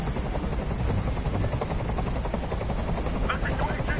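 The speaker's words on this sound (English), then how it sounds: "Tell that helicopter to get out of here." Helicopter in the video game Detroit: Become Human, a steady loud rotor drone filling the whole clip with rapid chopping pulses, with bursts that could be gunfire and a voice talking briefly near the end.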